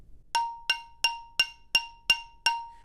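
A keyboard percussion bar struck on its node gives seven evenly spaced, bright clinking hits, each with a short metallic decay and a thin sustained pitch ringing underneath, close and alone.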